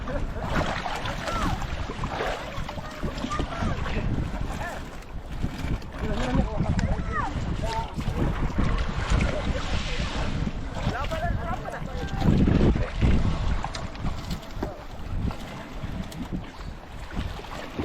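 Motor boat of a fishing carrier running at sea, a steady engine drone mixed with wind buffeting and water wash, with people talking throughout.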